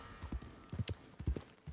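A horse's hooves clip-clop in the video game Red Dead Redemption 2, a brisk, uneven run of close, hollow hoofbeats at riding pace, heard without talk.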